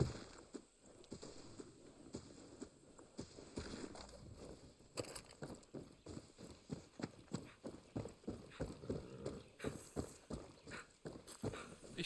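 Horse hooves in the video game Far Cry 6 clip-clop in a steady rhythmic trot that grows more regular and distinct, with faint background ambience.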